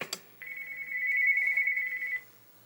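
A phone gives one sustained electronic ring tone, steady and fairly clear, lasting nearly two seconds after a brief click, in an otherwise quiet room.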